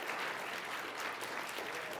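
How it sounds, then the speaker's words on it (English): Sustained audience applause after a talk, a dense even wash of clapping filling the room at steady loudness with no voices over it. "As a musician, applause is a form of reciprocity."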